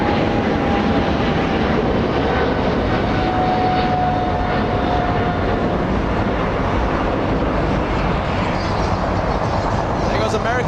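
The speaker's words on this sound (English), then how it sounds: "There goes American 134 flying to London." American Airlines flight 134 airliner taking off for London from Los Angeles International Airport, a loud, steady engine roar holding throughout with a faint whine on top, while a voice talks over it.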